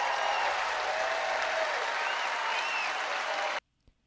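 Crowd applause, likely from a rally audience, fills the clip as a steady, loud wash of clapping that cuts off abruptly near the end, followed by a brief faint thump in the silence.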